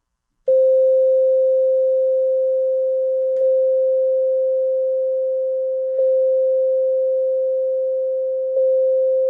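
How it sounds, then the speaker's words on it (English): A single OP-1 synth note loops through the wrms script on a Norns, giving a pure, steady tone that repeats with a faint click about every three seconds and fades slightly between repeats. "I'm going to play a single note into buffer 1."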